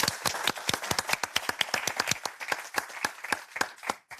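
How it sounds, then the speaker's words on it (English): An award ceremony audience claps steadily for several seconds, a dense patter of applause that fades out at the end. "let's give a big applause for all the participants for today"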